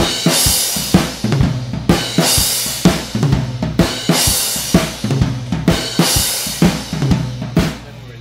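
A drum kit plays a steady rock groove from the School of Rock musical, with accented snare and cymbal crashes landing together on a repeating figure over the kick, loud and close with no talking.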